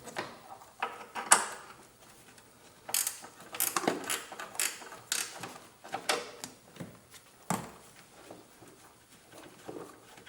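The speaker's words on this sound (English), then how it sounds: "I will be using a wrench for this next step." Ratcheting clicks and metallic tool clatter come from a wrench removing a bolt on a Jeep Grand Cherokee WK V6 engine, in irregular close bursts with pauses between.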